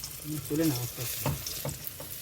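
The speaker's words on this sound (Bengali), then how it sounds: "এই তো মাছ ভাজা হয়ে গেছে" Hilsa fish fries in a pan of hot oil, giving a soft, steady sizzle with a few louder crackles and scraping stirs. No one speaks.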